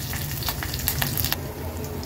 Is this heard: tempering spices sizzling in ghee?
yes